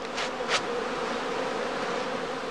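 Honeybee swarms, including second swarms or casts, buzz steadily at a heather skep apiary during the prime swarming period. The dense, continuous hum stays even throughout, with two brief brighter swells near the start.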